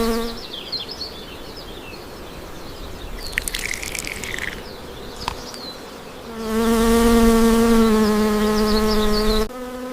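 Bees buzz around beehives and wild forest colonies, a swarm of close, wavering drones shifting in pitch, swelling into a louder, steadier hum partway through before a sudden cutoff.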